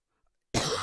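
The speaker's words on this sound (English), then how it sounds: "I just have a little coughing." A single sharp cough bursts out after near silence, close and loud, with no talk.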